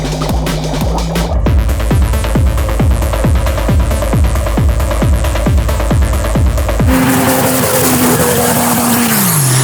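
A 900hp turbo diesel Ford F1 roars off the line in a no-prep drag race against a 1000hp Audi RS 6, loud rapid gear-pulsing engine revs climbing, then a sustained high rushing roar.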